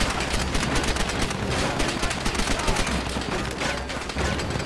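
Dense, continuous gunfire in Call of Duty World at War, loud rapid shots and explosions overlapping without pause.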